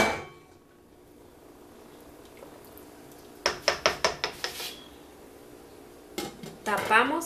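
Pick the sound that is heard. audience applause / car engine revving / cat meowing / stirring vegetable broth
stirring vegetable broth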